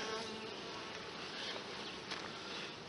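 Honey bees swarm around an open hive, a dense, even buzzing hum that fills the air without pause, close and steady, with no voices.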